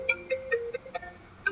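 A mobile phone ringtone for an incoming call interrupts a geometry lesson, playing a short series of bright electronic tones in a repeating melodic pattern, clear and fairly close.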